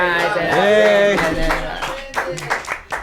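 A person talks, then a short scattering of hand claps breaks out near the end.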